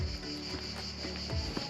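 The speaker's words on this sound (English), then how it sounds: "That noise is a cicada" A cicada in summer near a bridge in Alicante, Spain, makes a continuous, high-pitched buzzing drone at moderate distance, with no talking.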